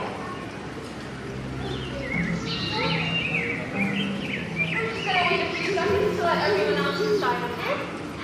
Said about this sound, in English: we can hear the sounds of birds also in here